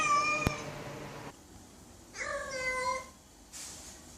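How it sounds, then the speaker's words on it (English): A cat yowling in repeated loud cries, three separate wavering calls with short gaps between, the middle one the strongest; close, with a faint click early on and no talk. "The craziest cat cry you ever heard in your life."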